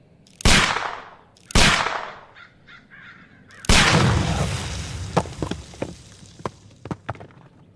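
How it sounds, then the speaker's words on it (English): Inside a Sherlock Holmes video game, a pistol fires at a package: two sharp, loud shots a second apart, followed by a bigger blast with a long rumbling tail and scattered crackles and debris. "Do you have your pistol? Good. Fire at this package."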